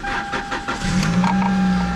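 A 2004 Toyota Celica GT with a 1.8-liter 1ZZ four-cylinder cranks and fires up nearby, a brief starter whir giving way to a steady idle, with a faint chime tone.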